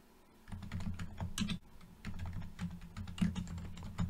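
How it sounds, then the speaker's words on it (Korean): Quick bursts of keystrokes on a computer keyboard while commands are typed, close and fairly quiet, with short pauses between clusters of taps. "윈도우즈 알키 누르고 커맨드 엔터 명령 프롬프트 열고"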